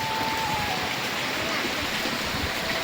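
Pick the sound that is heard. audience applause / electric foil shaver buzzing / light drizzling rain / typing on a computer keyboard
light drizzling rain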